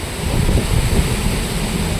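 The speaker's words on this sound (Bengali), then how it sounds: "সেখানে চলছে তীব্র হাওয়া, এই যে দেখতেই পাচ্ছেন।" Strong storm wind with light rain roars steadily across the open microphone in Simlapal, Bankura, a dense continuous rush of buffeting gusts with no pauses.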